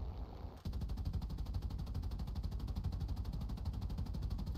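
Rapid strafing gunfire from a warship in the naval battles of War Thunder, a dense continuous rattle of automatic fire that starts abruptly after a brief lull and stays loud and steady throughout.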